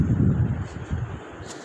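Wind buffeting a phone microphone outdoors, a low rumbling gust that is loud at first and then eases over the short stretch.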